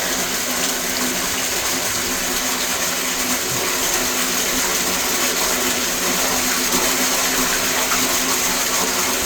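Steady, loud rush of clean water pouring into a septic treatment plant tank, a continuous broadband splashing roar with no breaks, heard close up.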